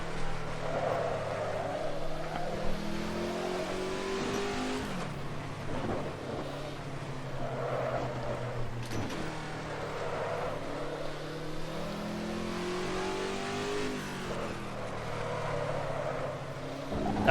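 A 1960s GT race car in the Assetto Corsa racing game drones at high revs, its engine note climbing and dropping with each gear change and lift, loud and continuous with no talking.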